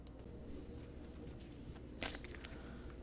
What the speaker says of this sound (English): So I'm going to start by shuffling.